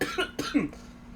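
A short burst of two or three quick coughs from a lingering cough, close and fairly soft, then quiet.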